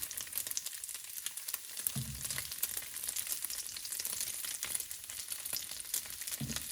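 A breakfast skillet, with some of its excess grease already poured off, fries in a pan with a continuous crackling sizzle after the pieces are flipped. Two dull thumps from the pan break in, and nobody speaks.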